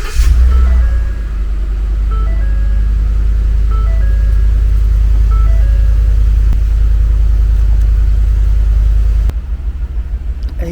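A 2009–2014 Ford F-150's air conditioning blower fan runs steadily inside the cab as a loud, constant low rumble with a faint mid-range drone, continuing unchanged for about nine seconds before the level drops and shifts abruptly near the end.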